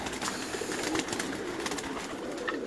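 Pigeons coo in a large loft in Pakistan, a steady low murmur of many birds layered over constant soft rustling, with no single call standing out.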